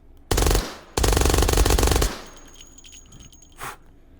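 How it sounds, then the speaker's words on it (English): Suppressed Mac-10 submachine gun in the shooter game H3VR firing two fast bursts, a short one then a longer rattling string, close and loud, followed by faint mechanical clatter and a brief thump. "Oh, I absolutely love the sound of this suppressed."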